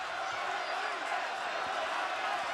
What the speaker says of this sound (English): as they cheer.